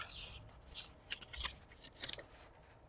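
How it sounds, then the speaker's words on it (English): Scissors cutting a sheet of paper in half for a handmade journal, a few soft snipping bursts spread over a few seconds, close and fairly quiet. "So I'm going to cut this in half."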